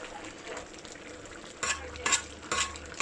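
Pork dinuguan with tamarind simmers and sizzles in a pan, a soft steady bubbling with a few louder scraping stirs near the end.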